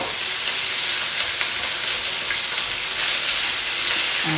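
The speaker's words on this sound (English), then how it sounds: "we're only going to saute these for about 5 minutes. Sweet peppers." Sweet peppers sauté in hot oil, giving off a steady, loud sizzle and hiss that continues evenly with no voices.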